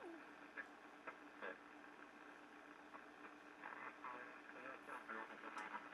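A 1937 Philco 37-610 tube radio gives shortwave hiss with garbled, warbling sideband voices on the 40-meter band drifting in and out, plus faint intermittent tuning chirps.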